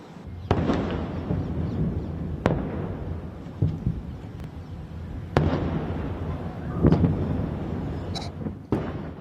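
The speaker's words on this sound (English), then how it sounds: "this video was recorded in Tel Aviv, apparently as an Iranian airstrike was taking place" Explosions during an Iranian airstrike on Tel Aviv: a series of sharp, loud booms and bangs at irregular intervals, some close together, over a continuous rumbling background with no talking.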